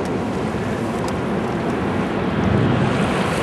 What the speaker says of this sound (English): there's the running water